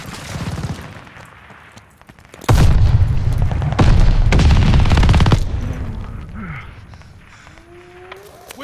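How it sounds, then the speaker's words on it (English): In a Call of Duty Vanguard battle, a grenade detonates with a sudden loud boom that sets off a few seconds of heavy rumbling blast and gunfire noise before fading back to quieter combat sounds. "Grenade."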